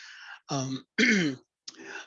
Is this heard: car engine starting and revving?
no